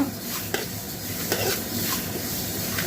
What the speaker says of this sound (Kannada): ಚೆನ್ನಾಗಿ ಫ್ರೈ ಆಗೋ ಥರ ಬಿಸಿ ಬಿಸಿ ಆಗ್ಬೇಕಷ್ಟೆ, ತುಂಬ ಉರಿಬೇಡ್ರಿ.